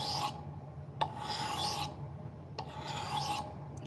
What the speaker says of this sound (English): Right now we're going to do that 1000 grit